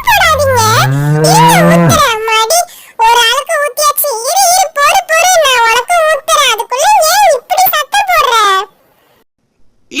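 A cow moos repeatedly in long, loud, wavering calls with clear pitch bends, close to the listener, alternating with bursts of a voice, before fading to near silence at the end.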